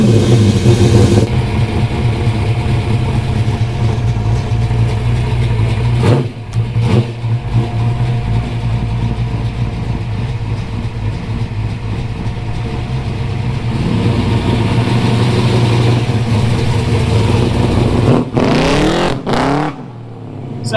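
A Holden VH Commodore with a 355 stroker V8 and an aggressive cam runs loud and close, a lumpy rumbling idle and low-speed driving with rev swells near the end.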